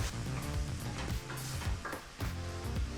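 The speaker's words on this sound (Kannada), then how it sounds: "ತರಕಾರಿ ಹಾಗೆ ಮಶ್ರೂಮನ್ನು ಎಡೆ ಬಿಡದೆ ಈ ರೀತಿ ಫ್ರೈ ಮಾಡ್ತಾ ಇರ್ತಕ್ಕಂಥದ್ದು" Mushrooms and vegetables sizzling in a pan for fried rice, a steady frying hiss with scraping and stirring of the spatula, close and fairly quiet, with no talk.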